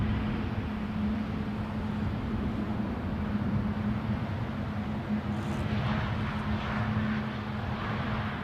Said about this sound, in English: inbound from Newcastle, A320 Neo.